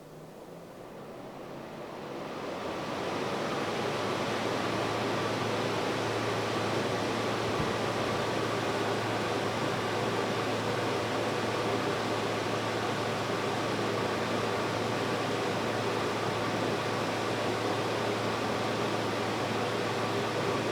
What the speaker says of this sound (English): aircon on, highest speed.